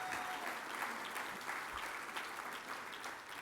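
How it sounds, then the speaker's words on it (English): A round of applause at a labor union gathering, steady crowd clapping throughout, fairly distant and even in level. "Let's give him a round of applause because this guy's fantastic."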